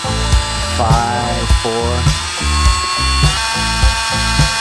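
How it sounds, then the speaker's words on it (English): A power drill running off a camper van's built-in electrical system whines in repeated short bursts that rise and fall in pitch. It is close and loud, with brief speech between the runs. "Let's try your drill."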